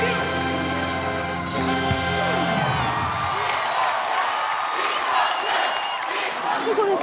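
A singer finishes a song on the live 'I Am a Singer' stage, his sustained vocal and band music fading into a big audience roar of applause, cheering and whoops that fills the hall.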